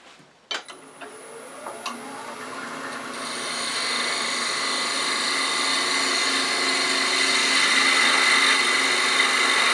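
Wood being turned on a lathe with a cutting tool, shaping a hot air balloon ornament: after a few sharp knocks, a steady bright whine builds and holds, continuous and fairly close.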